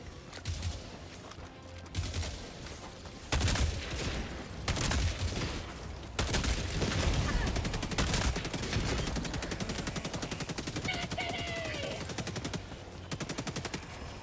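Eruptor weapon fire in Helldivers 2 at Helldive difficulty, heavy explosive shots arriving in irregular bursts among dense continuous gunfire and battle noise, loud and close throughout.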